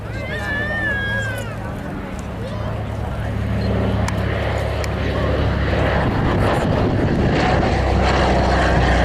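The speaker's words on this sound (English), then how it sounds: "let's listen to the sound of those wonderful Wright Cyclone engines" A Douglas Dakota with Wright Cyclone radial engines flies past at an air display, a loud droning propeller roar building and holding steady, with a person talking over the start.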